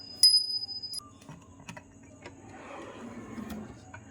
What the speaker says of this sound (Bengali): এই ঘন্টাটা কিনেছি